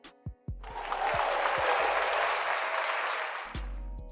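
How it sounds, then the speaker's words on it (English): An audience claps for a few seconds in a dense, steady burst after several separate thumps. The applause then cuts off abruptly. "I think we deserve another round of applause"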